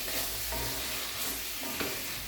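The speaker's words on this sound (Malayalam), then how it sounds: "എൻ്റെ കണവ റോസ്റ്റ് റെഡി ആയിക്കൊണ്ടിരിക്കുന്നു" Squid roast cooking down in a pan, a close, continuous sizzle and hiss with soft stirring scrapes and no voices.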